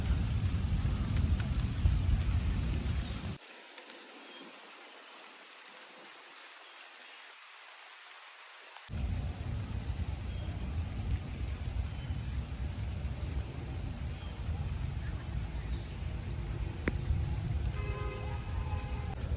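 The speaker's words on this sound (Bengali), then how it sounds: "ভালোই মোটামুটি ভারী বৃষ্টি পড়া শুরু হয়েছে।" Heavy rain pours steadily in a village, a dense broadband hiss that drops out briefly in the middle and then returns just as loud; no distinct thunderclap stands out and no one speaks.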